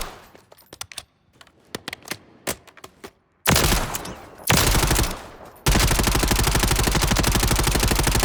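Rapid automatic weapon fire in Call of Duty, starting with scattered clicks and short bursts, then dense sustained sprays of loud gunfire with brief pauses, close and alone.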